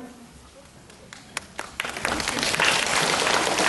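Audience applause at a kindergarten children's Mother's Day performance, starting with a few scattered claps and quickly building into steady, full clapping from the room.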